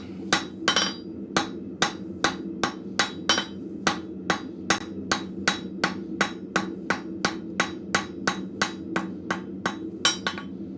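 Blacksmith hammering hot steel hooks at a forge; a long, steady series of sharp, ringing hammer blows at an even rhythm, loud and close with no talking.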